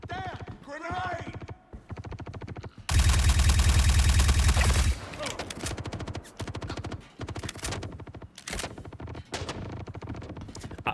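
In the Star Citizen video game, rapid gunfire crackles in bursts, a loud grenade explosion roars for about two seconds midway, and further shots rattle afterward while a voice exclaims early on.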